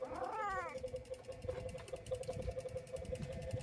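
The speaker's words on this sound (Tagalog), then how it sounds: "Ayun pa yung isang pusa." A cat meows once near the start in a shop setting in the early morning, a short wavering cry over a steady hum and low background clatter.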